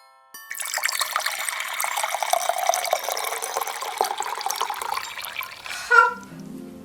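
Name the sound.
fruit juice being poured into punch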